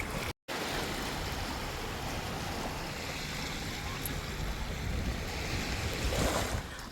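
Surf washing onto a beach on Jeju island, a steady broadband rush of breaking sea waves with wind noise on the microphone, loud and continuous throughout with no voices.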